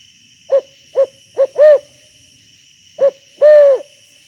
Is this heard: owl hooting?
yes